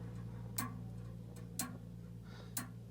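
A Hermle Black Forest grandfather clock ticks in a quiet room, with three crisp, evenly spaced ticks about a second apart. A low steady hum sits beneath them.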